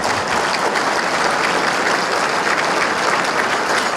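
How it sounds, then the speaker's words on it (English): Sustained, dense audience applause at a city's State of the City address in Garden Grove, loud and even throughout without talk. "Thank you, please applaud."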